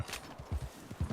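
Horse hooves clip-clop in a steady walking rhythm in Red Dead Redemption 2, close and fairly quiet, with a few uneven, softer steps and no talk.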